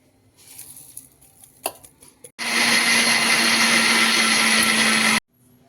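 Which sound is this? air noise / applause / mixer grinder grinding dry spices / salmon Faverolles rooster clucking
mixer grinder grinding dry spices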